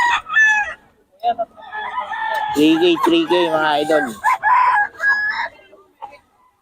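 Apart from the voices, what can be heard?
rooster crowing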